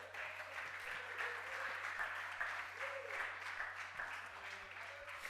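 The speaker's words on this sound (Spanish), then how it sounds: "dale fuerte el Aleluya. aplauso." A church congregation applauds during a Spanish-language service, a continuous wash of clapping over a low steady hum, with faint voices underneath.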